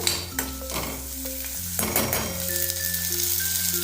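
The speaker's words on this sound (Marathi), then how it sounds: "आवश्यकतेनुसार मीठ टाकून घेते। तिखट मीठ तुमच्या आवडीनुसार तुम्ही कमी जास्त करू शकता। आणि एखादा मिनिट असं परतून घ्यायचं।" A potato and pea curry with salt and chili powder is sautéed in a pan, giving a steady sizzle with stirring scrapes under background music and no talk.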